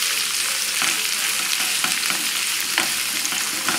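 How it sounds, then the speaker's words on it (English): Food sautéing in a pan over a high flame, a steady loud sizzle broken by the scrape and clatter of stirring, no voices. "So we'll saute this on a nice high flame."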